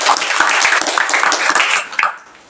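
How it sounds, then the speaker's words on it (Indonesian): Students in a classroom break into brief, lively clapping together, a dense burst of hand claps that thins out and fades within a couple of seconds. "Tepuk tangan dulu."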